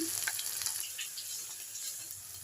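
Grated ginger and asafoetida sizzle in hot oil with whole spices for a Bengali mixed vegetable curry, a steady close crackle with light stirring and no one talking.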